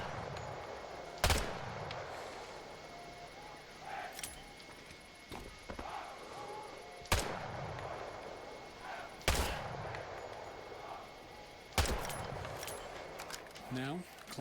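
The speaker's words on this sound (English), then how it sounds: "Shoot the targets ahead, aiming for the helmet to guarantee an instant kill" Gunshots in the Vietnam War shooter Hell Let Loose Vietnam, fired at targets: five or six sharp separate reports a second or two apart, over a steady battlefield background.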